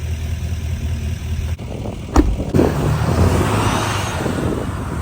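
A cold-soaked 6.5L diesel truck's starter grinds against a damaged flywheel in extreme cold, a rough mechanical churn and sharp clank over a steady engine-like drone, close and continuous.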